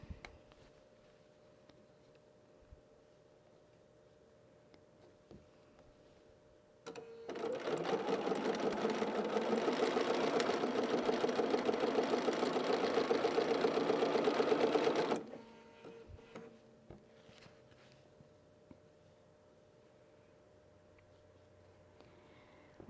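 Sewing machine stitching patriotic country-style quilt pieces with a leader ender, a steady whirring run of about eight seconds rising from a quiet background and stopping abruptly, with no talk over it.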